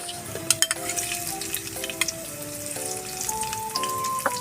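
Garlic and golden-browned onion sauté in a pan, a steady close sizzle broken by sharp clinks and scrapes of a utensil stirring against the metal.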